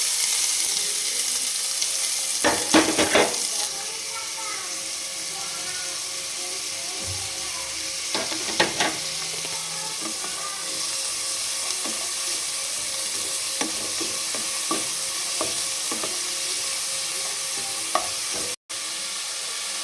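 Onions frying in a pan for egg curry, a constant soft sizzle running throughout with occasional clustered scraping and tapping as a utensil stirs, loud and close.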